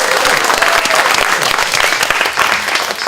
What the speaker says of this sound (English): When I say by applause, I mean put those 2 hands together.